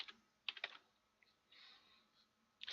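Typing on a computer keyboard without backlighting: short bursts of clicking keys with pauses between, close and moderately loud.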